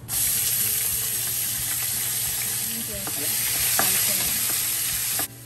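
Curry leaves and onions frying in a pan while a spoon scrapes and stirs them, a steady close sizzle with scattered clicks and knocks of the utensil.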